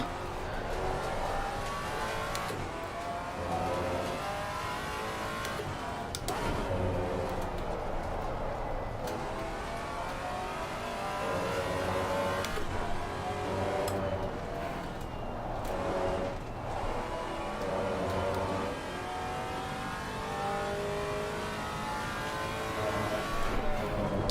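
A GT4 race car engine at Laguna Seca in Assetto Corsa Competizione revs and shifts continuously over a long stretch, rising and falling with gear changes, with occasional voice chatter under the engine noise.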